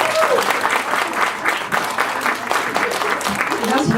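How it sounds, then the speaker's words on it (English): A crowd applauds at a political fundraiser for a California governor candidate, sustained loud clapping throughout with a voice cutting in over it. "One more time, give me a round of applause."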